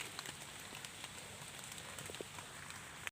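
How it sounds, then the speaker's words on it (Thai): Rain patters steadily on surfaces nearby in a forest while mushrooms are gathered, a dense even hiss with scattered drop ticks. "ฝนกระตกครับ"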